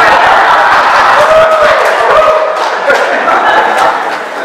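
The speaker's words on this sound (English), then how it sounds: "You can clap or something." Audience applause during a best man's wedding speech, a dense, steady wash of clapping from a crowd that holds at full level for several seconds before easing slightly.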